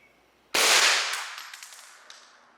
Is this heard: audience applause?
no